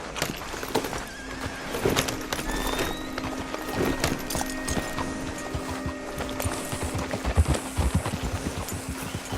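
Hooves clip-clop steadily in Red Dead Redemption 2, with a horse whinnying and neighing over a busy in-game soundscape, while other tones and sounds shift in and out.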